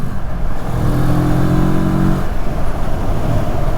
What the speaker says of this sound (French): Je sais pas si vous entendez les petits bruits d'admission là.